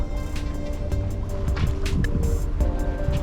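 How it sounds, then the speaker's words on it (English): A sailing boat under sail at sea, steady broadband rush of wind and water against the hull, with intermittent brief splashes and creaks, close and continuous, no voices. "I'm just enjoying a sail now."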